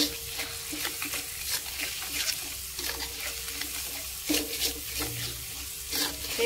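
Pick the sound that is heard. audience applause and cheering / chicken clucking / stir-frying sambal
stir-frying sambal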